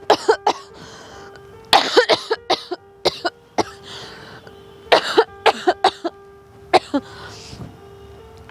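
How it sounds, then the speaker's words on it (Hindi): A woman coughs repeatedly in a small hut, with short harsh bursts in irregular clusters and some throat clearing, close and loud over a faint steady background hum. "मुझे तो ऐसा लगा था कि मुझे बस ऐसे ही खांसी हो रही है"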